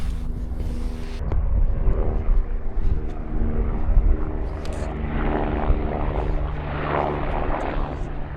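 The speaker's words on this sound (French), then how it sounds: "Mais ouais, il y a un hélico pas loin." A steady helicopter rotor drone nearby in snowy mountains around the Pic du Capucin, loud and continuous with wind buffeting the microphone, no talking.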